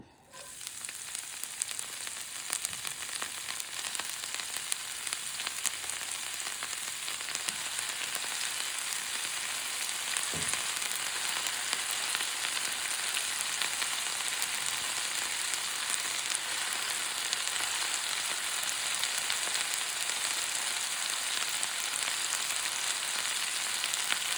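Red spinach (cheera) fries in a pan with mustard seeds, producing a constant close sizzling crackle throughout, with a single dull knock near the middle and no voices.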